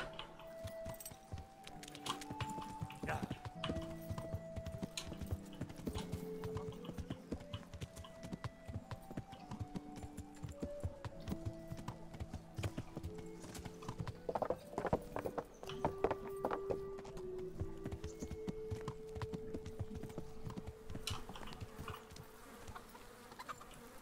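Horse hooves clip-clop at a steady walking rhythm in Kingdom Come: Deliverance, continuous and close over a bed of in-game music and ambience with buzzing insects, no talk.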